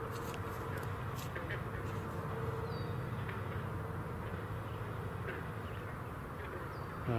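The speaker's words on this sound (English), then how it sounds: "More than anything, hearing frogs and maybe red-winged blackbirds." Frogs calling in a steady, dense outdoor chorus that runs unbroken throughout, with a few faint, brief bird calls above it at a distance.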